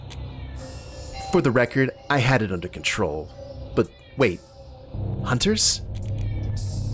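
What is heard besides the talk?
elderly cat meowing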